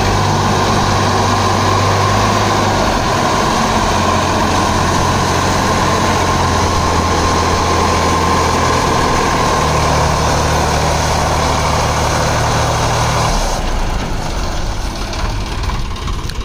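A Sonalika D50 50 HP tractor engine runs at a steady, loud, low rumble by a sugar mill in Villupuram, continuous and near, with the tone shifting slightly toward the end.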